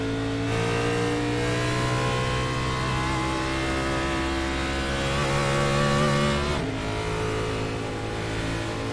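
A NASCAR Cup Series car engine in the iRacing simulator at Daytona International Speedway, pulling away from pit road with a loud, steady droning rev, a brief shift or dip in pitch, then sustained engine roar.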